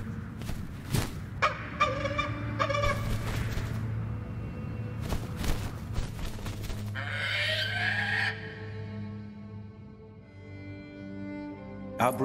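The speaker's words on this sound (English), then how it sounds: "Say hello to your bird. Be quiet, bird." Squawks and gobbling calls from a pet bird in The Lord of the Rings: Gollum, several sharp bursts over a low game rumble and music, with a few louder cries mid-clip.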